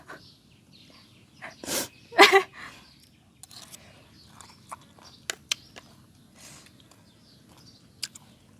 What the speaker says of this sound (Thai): มันก็จะจามเนี่ย